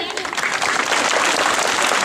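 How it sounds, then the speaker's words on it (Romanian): Crowd at an outdoor civic march in Vladimirescu, Romania, applauding the local mayor, a brief dense burst of clapping from many people, loud and continuous. "aplauze"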